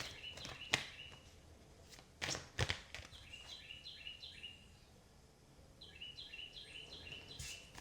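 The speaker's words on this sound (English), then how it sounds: "There's this bird singing outside, if you hear that." A bird singing outside, repeated bright chirping phrases in short bursts, faint and somewhat distant, mixed with occasional soft taps and footstep-like knocks indoors.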